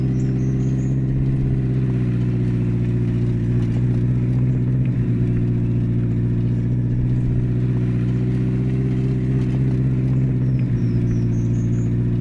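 A car's engine in Border Officer drones steadily as it is driven, a continuous mid-range hum with minor rises and dips, nothing else layered over it.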